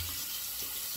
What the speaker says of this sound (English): rinse that off